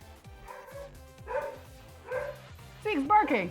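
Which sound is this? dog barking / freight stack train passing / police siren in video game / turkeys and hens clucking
dog barking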